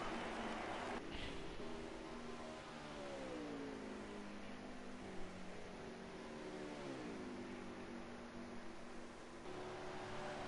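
Race cars accelerating off pit road during Cobra Auto Club qualifying, including a Ford Mustang, their engine notes rising and bending in pitch as they pull away, a continuous faint drone heard from some distance with no one talking.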